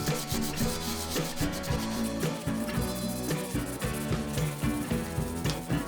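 Steady scratchy rubbing from 180-grit sandpaper worked back and forth by hand on a 1981 Karpaty moped, close and continuous, with faint tonal background sound underneath.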